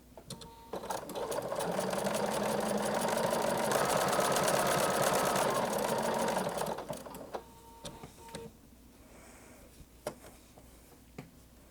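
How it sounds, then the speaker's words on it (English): Stitching stretchy t-shirt knit with Seraflex thread, a sewing machine hums in a steady, close, rapid run for about seven seconds. It then stops, followed by a few soft clicks and quiet handling noises. "So I am sewing a really stretchy t-shirt fabric"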